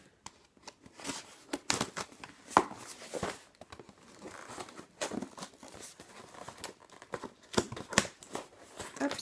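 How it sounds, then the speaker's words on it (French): Small scissors snipping open a well-wrapped parcel, with crisp irregular cuts mixed with crinkling packaging and handling noises, close and fairly quiet with no talking. "Donc j'ai pris ma petite paire de ciseaux."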